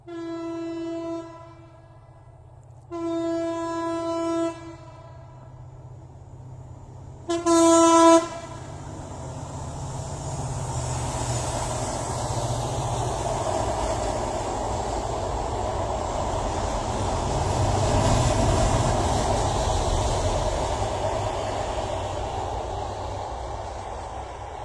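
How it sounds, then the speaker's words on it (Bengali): Khulna-bound trial special train on the Padma rail link viaduct: three loud, separate horn blasts, then a rising, sustained roar of the train running past, with no voices. "আপনারা উপভোগ করুন ভায়াডাক্ট 2 রেলপথের উপর দিয়ে ছুটে চলা খুলনাগামী ট্রায়াল স্পেশাল ট্রেন"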